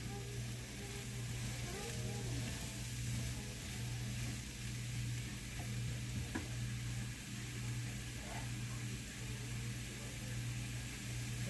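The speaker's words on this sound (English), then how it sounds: "Just mix the garlic around with the mushrooms." Garlic and mushrooms fry in butter in a pan, giving a soft steady sizzle with occasional scrapes from stirring, under a faint background hum.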